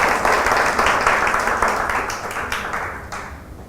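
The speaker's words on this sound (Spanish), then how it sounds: "Pues denle un aplauso al Señor por eso" A church congregation applauds in a dense, fairly loud wash of clapping that gradually fades over a few seconds, with no talking on top.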